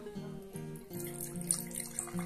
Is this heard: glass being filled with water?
yes